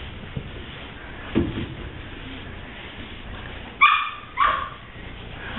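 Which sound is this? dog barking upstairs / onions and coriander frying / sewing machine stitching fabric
dog barking upstairs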